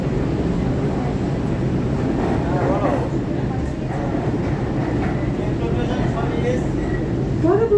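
A metro train pulls away from Garia station in Kolkata, heading toward Dum Dum, a steady rolling rumble and whine heard from inside the carriage, with passengers talking over it.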